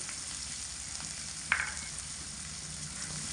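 Chopped onion with ground ginger and green chilli paste frying in oil for a masoor dal and pointed gourd dish, a continuous close sizzle with one sharp crackle midway, no voices.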